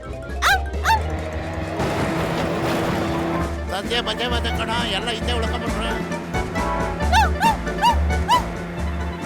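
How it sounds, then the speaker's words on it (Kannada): Cartoon dog barks and yips in short bursts at the start and again near the end, close and loud, with animated voices talking and shouting over a backing music track. "ಈ ನಾಯಿ ಇವತ್ತು ನಮ್ಮನ್ನ ಬಿಡೋದಿಲ್ಲ ಅನ್ಸುತ್ತೆ ಕಣೋ"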